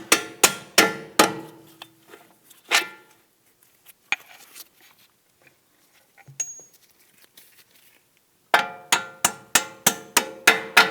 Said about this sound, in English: Let's go ahead and start by tapping out this upper bolt.